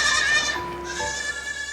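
Farm goats bleat in a single wavering, nasal cry that rises and shifts pitch, fairly close and loud, with a second goat briefly overlapping partway through and no talk.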